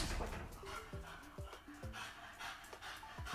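Several dogs yip and whimper in short rising and falling bursts close by, with panting and small barks repeating through the whole stretch.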